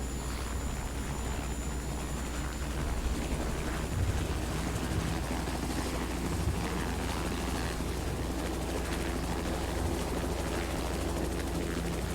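Simulated Bell 407 helicopter in flight over Honolulu in a flight simulator game, a constant low rotor and turbine drone with steady broadband whine, unchanging and alone throughout.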